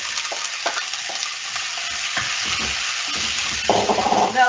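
Onion, celery and carrot sizzling in hot oil in a pan, a constant crackling fry with bursts of stirring and scraping, close and fairly loud, with no talking.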